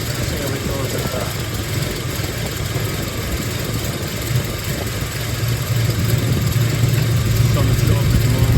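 A Triumph Stag engine idling on choke: a loud, steady low rumble close by, holding an even idle throughout with a slight rise in level toward the end.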